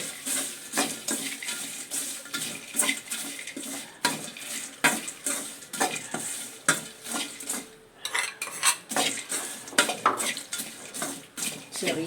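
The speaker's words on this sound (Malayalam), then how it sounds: "ഇനി നമുക്ക് ഇതിലോട്ട് നമ്മൾ വറുത്ത് വെച്ചിരിക്കുന്ന പപ്പടം ഇട്ട് കൊടുക്കാം." Fried pappadam is stirred into roasted masala paste in a pan with repeated scraping and clinking of a spoon against the metal, keeping a loose, uneven rhythm over a faint sizzle.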